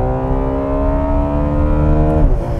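A Ferrari 12 Cilindri's front-mounted F140 V12 holds a loud, smooth, rising howl close by, its harmonic exhaust note climbing steadily before dipping sharply near the end as revs fall away.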